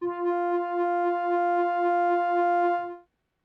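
Synth pad built in ZebraCM, its oscillator waveform swept by LFO1, holding one sustained tone with a slow, pulsing timbral wobble for about three seconds before stopping, alone and close.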